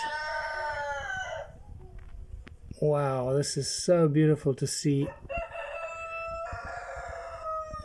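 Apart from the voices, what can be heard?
roosters crowing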